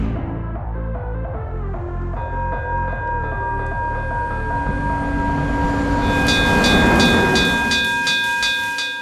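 A train rolls past a railway crossing, its steady rumble and rhythmic wheel clatter filling the scene, with a crossing bell's repeated high dings joining in as the loud pass builds near the end.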